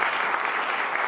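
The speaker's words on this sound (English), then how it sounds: "So big round of applause for these physicians" Audience applauding for physicians at a breast health event, a steady dense burst of clapping heard briefly and close, with no voices over it.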